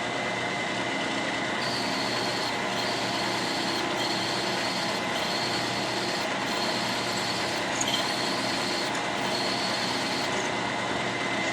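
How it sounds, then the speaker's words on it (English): A steady, continuous drill grinds through metal on a Farmall M tractor's power steering parts, with a high whine that dips briefly at regular intervals, close and uninterrupted. "Seems to be drilling pretty good."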